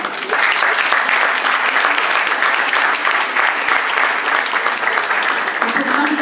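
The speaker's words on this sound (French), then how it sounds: "mais vous pouvez l'applaudir quand même." An audience at an art exhibition opening applauds an award, loud close clapping sustained evenly throughout, with a voice starting to speak as it winds down.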